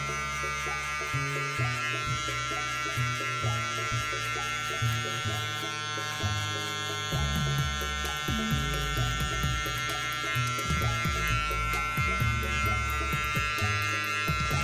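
Electric hair clippers blending a skin fade buzz continuously and closely with a steady motor drone, their pitch wavering slightly as they move through the hair, with no speech.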